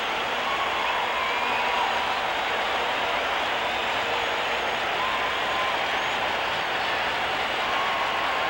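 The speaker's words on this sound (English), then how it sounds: "Listen to the crowd." A large crowd roars steadily at a 1981 Major League Baseball game between the Dodgers and the Astros in Houston, with a dense, unbroken wash of cheering and clapping that holds at full level throughout.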